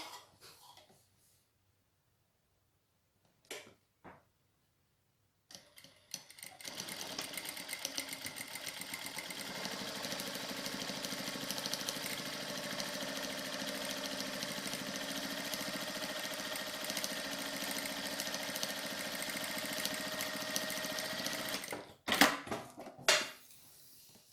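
Sewing machine stitching straight seams on a fabric mug rug, a steady close whirring hum with fast needle ticking that runs unbroken for about sixteen seconds, framed by a few handling clicks and thumps at the start and end.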